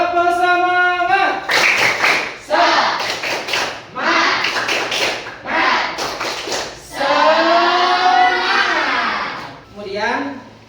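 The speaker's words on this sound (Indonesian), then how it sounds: "tepuk semangat terlebih dahulu" A classroom group does a rhythmic 'tepuk semangat' spirit clap, claps in a quick rhythmic pattern, several bursts of unison clapping mixed with voices chanting along, loud and close.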